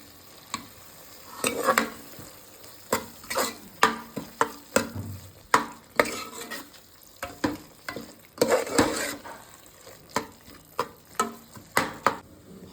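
Spoon stirring pulao powder through tomato rice in a pan, a steady run of scraping strokes and soft clinks against the metal over a light sizzle of frying, close by with no talk.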